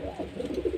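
Giribaz pigeons coo in low, rolling murmurs, close and short.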